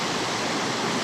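A freezing waterfall in the Republic of Adygea, Russia, rushes in a loud, dense, unbroken roar of falling water.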